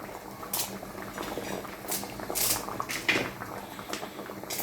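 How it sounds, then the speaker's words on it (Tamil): Sambar bubbles at a boil in a pot on the stove, a soft continuous simmer broken by scattered louder pops and bursts, close and fairly quiet. "கொதி வந்துடுச்சு"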